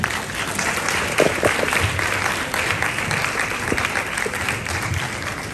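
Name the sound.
audience clapping and applause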